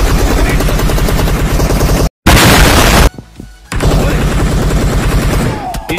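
Rapid bursts of gunfire and heavy booms from a PUBG battle royale match, loud and dense for most of the stretch, broken by a sudden brief silence and a quieter gap before the shooting resumes.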